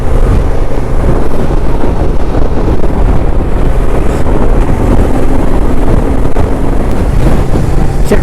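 A Honda Transalp motorcycle rides on a highway toward the Western Ghats in monsoon weather, its engine drone buried under loud, constant wind roar battering the microphone, with no voices.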